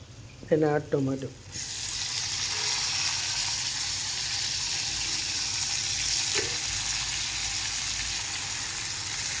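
Shallot and tomato fry in a pan for a dry goat brain and egg dish, giving a steady, even sizzle that runs on after a brief voice at the start.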